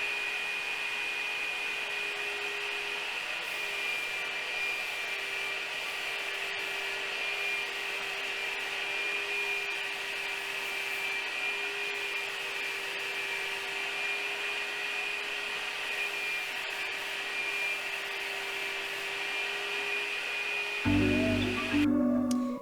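A Fuji Pro 2 spray gun lays finish coats on a wooden chair, giving a steady, continuous hiss with a droning turbine hum. It holds unbroken for about twenty seconds, then cuts off into a brief clatter near the end.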